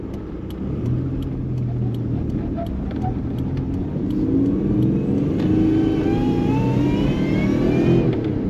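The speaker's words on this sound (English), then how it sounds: "I can already hear that supercharger." A supercharged 1998 Toyota 4Runner, a third-generation truck with a five-speed manual, drones steadily from inside the cab while driving, its engine note rising gradually as it pulls, with a faint whine climbing over the last few seconds.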